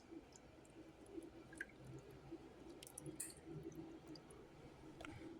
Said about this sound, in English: I'm just going to go ahead and pour our marinade